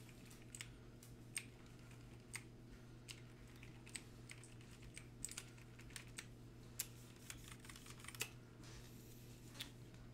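Quiet, steady typing on a computer keyboard during a livestream, with irregular soft key clicks spread across the stretch over a constant low electrical hum and no speech.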